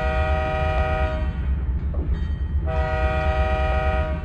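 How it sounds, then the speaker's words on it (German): Locomotive horn in Microsoft Train Simulator, a loud sustained blast that pauses briefly and then sounds again over a steady low rumble of the train, with no voices. "Da sind schon wieder Tiere, die hupen wir jetzt an."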